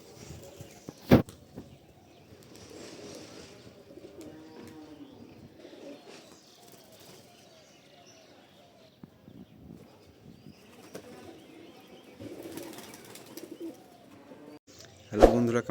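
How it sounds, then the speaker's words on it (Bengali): Faint, soft cooing comes from domestic performing pigeons kept in a loft, with occasional sharp wing claps and flapping near the beginning and end. "এই হচ্ছে পায়রাটা, নিচে বাজির পায়রাটা।"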